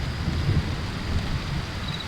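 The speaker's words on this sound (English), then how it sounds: "We have a thunderstorm out there, folks." A thunderstorm with steady rain heard from inside a truck while camping, a constant wash of rain on the surface with low rumbling thunder underneath and no voices.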